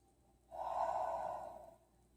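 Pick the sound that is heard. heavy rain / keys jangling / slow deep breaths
slow deep breaths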